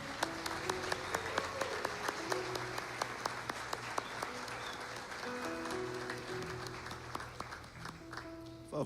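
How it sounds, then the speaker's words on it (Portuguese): Steady applause from a church congregation, continuous clapping throughout at moderate distance, fairly quiet with no pauses. "Podemos aplaudir."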